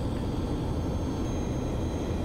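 The jet engines of a Falcon 50 in a flight simulator game give off a steady, dense roar with a broad rumbling drone that holds evenly and alone through the clip.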